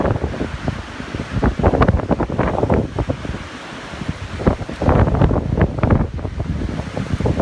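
Strong, gusty wind whips across a lake beside a cottage, buffeting the microphone with loud, uneven rumbling surges and faint rustle, with no talking.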